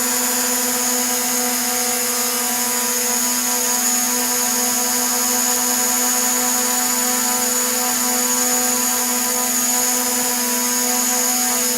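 A DJI Mavic Pro drone with a modded battery hovers nearby, giving a loud, continuous high-pitched propeller whine with steady tonal bands and no pauses, alone without talk.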